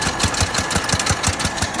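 A blown Yamaha R125 motorcycle engine runs roughly on the M1 motorway, a loud, close, rhythmic knocking idle with rapid, regular thumps and a harsh mechanical rattle throughout.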